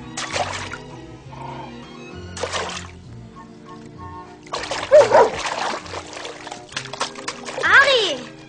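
Dog splashing in water in bursts, with someone talking over it in German, coaxing the reluctant animal; splashes come in short clusters between the speech and grow louder toward the end.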